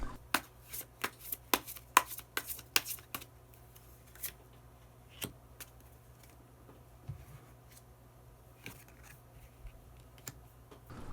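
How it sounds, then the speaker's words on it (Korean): Tarot cards are shuffled and drawn, with a quick burst of crisp flicks and snaps early on, then sparse single card taps and slides spread out over a quiet background without talk. "마지막으로 히든 카드 한 장 더 뽑아보도록 하겠습니다"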